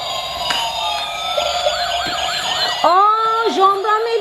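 A loud ambulance siren wails nearby, its pitch sweeping up and down repeatedly, then shifts to a sharper, faster yelp toward the end.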